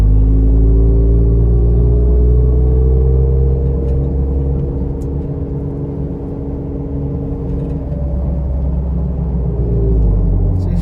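A car with an automatic transmission and a swapped NAG1 valve body pulls away under load, its engine droning steadily before the pitch drops as it shifts from first into second gear, then climbs again.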